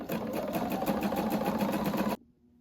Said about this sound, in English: Okay, so I've been sewing,